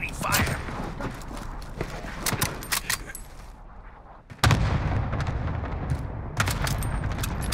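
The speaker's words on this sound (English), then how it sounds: "Allied cluster strike arriving." Cluster strike explosions in Call of Duty Warzone on Rebirth Island come as a rapid string of booming blasts and gunfire cracks, then a louder burst after a brief lull, with game voice callouts over them.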